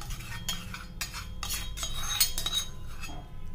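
A spoon stirs radish and green chilli pickle with oil in a metal pot, giving a run of clinks and scrapes against the pan at close range.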